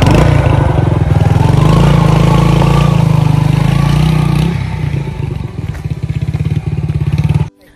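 A motorcycle engine strains while climbing a steep uphill track, a loud, close, rough droning rev that holds steady, then sputters into uneven chugging pulses before cutting off abruptly at the end.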